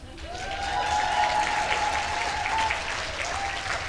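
Audience applause at a Black History Month conference in the West Midlands, a dense wash of clapping that swells and holds for a few seconds, heard indoors at a moderate distance without speech.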